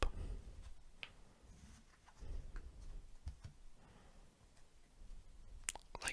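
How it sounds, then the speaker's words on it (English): Playing cards riffle-shuffled face down into face up, heard close and quiet as soft ticking flutters and brief crisp bursts spread across the span, with no talk. "Again, I'll split them in roughly half, and we'll shuffle face down into face up."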